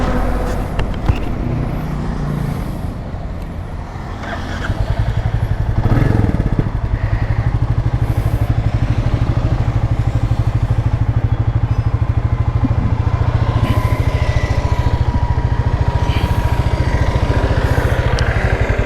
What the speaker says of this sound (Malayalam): രണ്ട് വണ്ടിയുടെ എക്സോസ്റ്റ് സ്റ്റോക്കാണ്.